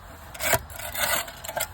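A weeding tool scraping across uneven garden slabs on an allotment, a few rough, rasping strokes close by, with no voices.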